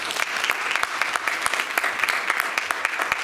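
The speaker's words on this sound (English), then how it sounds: "Can we please give the team another round of applause?" A large audience gives the presentation team of a Ramayana thematic performance another round of applause, a dense, steady wash of many hands clapping without pause, close and fairly loud.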